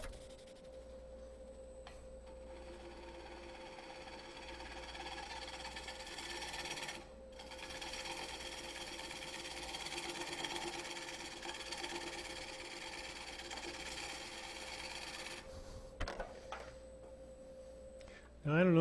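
Wood lathe turning a piece at about 500 RPM, a steady continuous mechanical whir with faint rhythmic ticking, holding evenly for most of the span before a brief dip and a clunk near the end.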